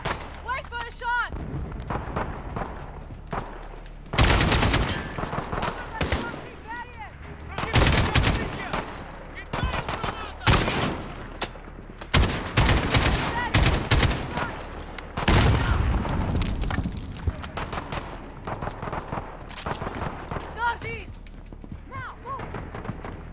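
Gunfire and explosions in a Call of Duty: Modern Warfare campaign mission: repeated loud bursts and blasts come in clusters over a steady battle din, with voices calling out between the shots.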